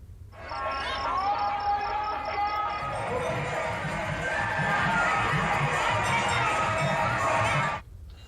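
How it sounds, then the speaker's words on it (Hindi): Crowd of Hindu devotees gathered at Shiva temples during the Sawan Monday festival, a dense continuous murmur of many voices with shouts and bustle, steady and fairly loud before dropping away at the end. "शिव मंदिरों में रात से ही श्रद्धालुओं की भीड़ उमड़ रही है"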